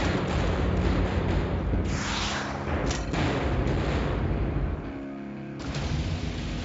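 Secondary weapons fire in the Galahad 3093 video game, destroying a generator with a dense run of booming blasts and thumps that briefly dip before the rumble returns.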